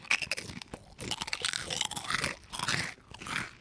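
Salt and vinegar pork rinds crunch loudly and repeatedly, close bites and chewing in bursts with no talking.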